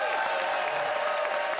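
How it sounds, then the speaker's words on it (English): Studio audience on a live Winnipeg radio show applauds to cast a vote, a steady dense wash of clapping that fills the whole short moment without pause. "It is time to vote, audience, by applause"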